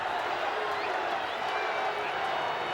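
A rugby league stadium crowd roars in a steady, dense wash of cheering before a penalty kick, with a commentator talking over the noise.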